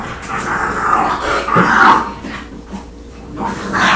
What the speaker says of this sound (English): Y'all hear my puppies? Them puppies, y'all. They sound like 2 big old dogs in there.